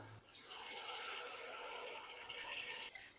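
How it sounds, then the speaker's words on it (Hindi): Steady rushing pour of water into a pot, continuous and fairly close, swelling slightly toward the end before tapering off. "तो इसके लिए इसमें मैं पानी डाल दूंगा।"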